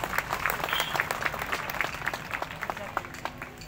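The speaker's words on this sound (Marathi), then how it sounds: "त्यांचं एकदा जोरदार सगळ्यांनी टाळ्या वाजवून स्वागत करावं" An audience at a ceremony claps steadily to welcome the guests, a dense run of close hand claps lasting several seconds, with a voice faintly audible under the clapping.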